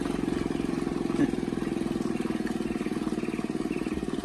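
A following motorcycle's engine chugs steadily in a rapid, even pulse while climbing a steep dirt uphill track toward Sukamade in Meru Betiri National Park, moderately close and constant throughout.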